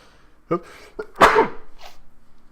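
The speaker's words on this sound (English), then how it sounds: "Sorry, I had to sneeze." A single sharp sneeze bursts out after a couple of short breathy catches, followed by a faint sniff.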